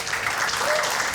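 An audience on a Marathi comedy show claps loudly for the next contestant, a brief, dense, steady burst of many hands heard close and without talk.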